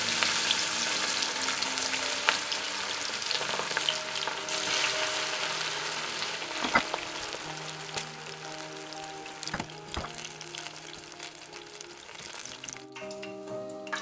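Moong dal pakoras and green chillies fry slowly in oil on a low flame, a close, steady sizzling hiss with occasional pops and stirring clinks, no talking.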